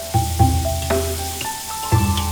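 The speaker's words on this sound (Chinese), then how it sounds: "下点小米椒、野山椒、泡椒翻炒， 再搞点花椒，自然的增香，加郫县豆瓣、干辣椒，" Chili peppers, pickled chilies, Sichuan pepper and Pixian bean paste stir-frying in a hot wok, a steady close sizzle broken by several sharp scrapes and clinks of the spatula, with no talking.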